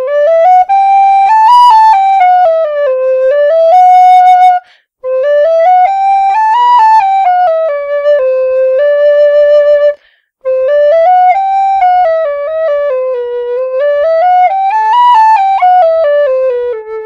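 A low whistle plays a finger exercise moving between the top notes of the low octave and the bottom notes of the upper octave, in three loud, clear, rising and falling phrases separated by short pauses.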